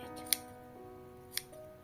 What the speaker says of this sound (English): I'm going to snip it as though I'm ragging it